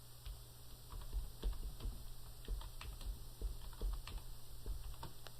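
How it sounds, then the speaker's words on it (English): Someone types a search phrase on a computer keyboard in quick, uneven clusters of soft keystrokes, close and quiet over a low steady hum, with no talking. "When I get it typed in, I'll press enter."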